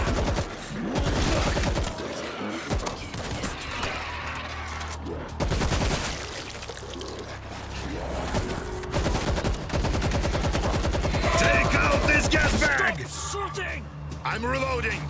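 Rapid, loud gunfire and bursts of automatic weapons fire from a co-op World War Z zombie shooter match in Moscow, continuous through most of the stretch with players shouting over it.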